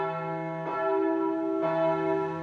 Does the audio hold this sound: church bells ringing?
yes